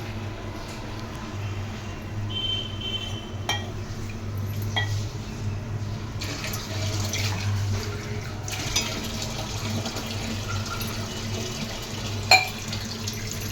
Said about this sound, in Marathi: या सुकटमध्ये आपण आता पाणी टाकून घेऊया